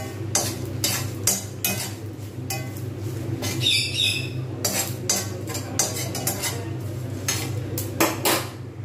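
Spices being dry-roasted in a pan for an aloo paratha masala, stirred with repeated scraping and clinking of a spoon against the metal, in irregular bursts over a steady low hum with faint bird calls in the background.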